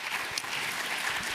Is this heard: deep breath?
no